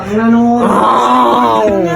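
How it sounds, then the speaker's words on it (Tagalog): Loud snoring from a sleeping man, a deep rasping growl, close and harsh, filling the whole moment without a break. "mas malakas pala hilik mo"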